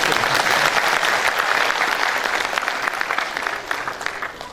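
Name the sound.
applause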